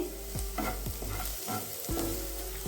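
Chopped onion frying and being stirred in a hot pan, a steady dense sizzle with scraping strokes of a spoon, close and without speech.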